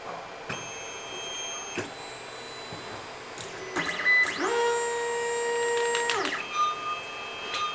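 A Creality Ender-5 Plus 3D printer auto-homing, its stepper motors whining in sustained tones that rise and hold, with clicks and short mechanical taps between moves, close and fairly quiet.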